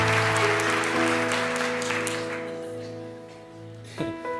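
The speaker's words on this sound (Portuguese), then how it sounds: "Dá uma salva de palmas pro tecladista, gente." Church congregation applauding the keyboardist, applause loudest at first and gradually fading beneath sustained keyboard chords, with a brief bump of sound near the end.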